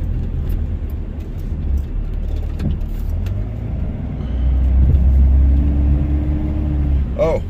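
A Dodge Ram pickup with a Cummins diesel plowing light, cold snow: a steady, loud engine rumble from inside the cab that swells into a heavier, deeper drone partway through.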